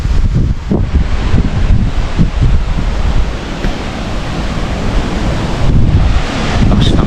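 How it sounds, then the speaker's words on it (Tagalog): Strong wind roars and buffets the microphone continuously in Malico, Pangasinan, a loud rushing noise with gusting surges and no voices. "Lakas ng hangin."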